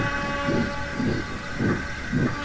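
A steam locomotive puffs in a steady rhythm of four evenly spaced chuffs over a continuous background hiss, close and fairly loud.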